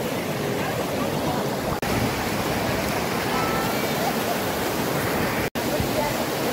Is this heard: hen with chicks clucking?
no